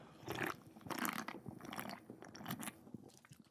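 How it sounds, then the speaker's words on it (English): Food is chewed and crunched right against the microphone at a Chinese-Spanish restaurant, with loud, close, wet bites and mastication repeating in uneven bursts and no talking. "I'm going to inadvertently chew closer every once in a while just for y'all"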